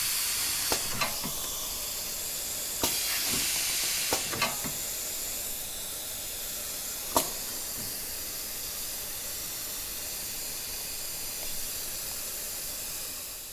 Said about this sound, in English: this is the temperature of the air flow flowing through the nozzle